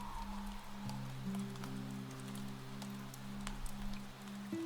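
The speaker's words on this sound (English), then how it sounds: "the rain falling softly around you both" Soft, steady rain falls around two people standing beneath a lamp outside an old Irish café in the evening, a continuous gentle patter with scattered drops, while a low hum sits underneath.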